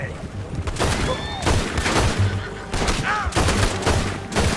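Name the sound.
gunfire in the video game Red Dead Redemption 2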